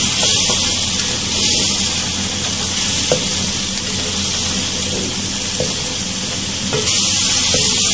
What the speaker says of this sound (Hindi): इन सब मसाले को हमें अच्छी तरह टमाटर के पेस्ट के साथ भून लेना है